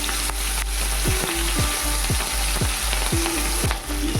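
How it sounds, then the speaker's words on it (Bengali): A hilsa fish head sizzles steadily in hot oil, with a series of regular stirring scrapes and pops layered over the constant frying hiss. "ইলিশ মাছের মাথাটা বেশি কড়া ভাজাও করব না একটু হালকা ভাজাও করব না মিডিয়াম মতন ভেজে নেব"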